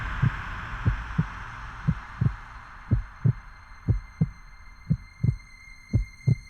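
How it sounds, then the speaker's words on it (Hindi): A fast, steady heartbeat sound effect thumps out about two beats per second, each beat a deep, close double thud over a faint background hum, with no talking. "आपकी दिल की धड़कन हम सिर्फ महसूस ही नहीं बल्कि सुन भी सकते हैं"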